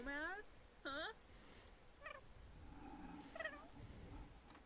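Cat vocalizations from a cat being brushed in The Sims 4, mostly chirpy meows and a short purring passage over a steady game background, with two strong calls early and softer ones later.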